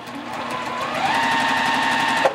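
Sewing machine running steadily as quilt block pieces are stitched for a pinwheel block, a continuous close whirring hum that shifts slightly in pitch midway and stops abruptly near the end.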